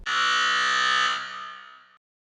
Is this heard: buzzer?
yes